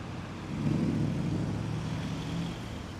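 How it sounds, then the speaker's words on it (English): Steady road traffic on a main road in Prishtina, Kosovo, a broad low rumble of passing cars that rises after the first half second and holds at a moderate level throughout, with no voices. "the car noise is going to be a little loud"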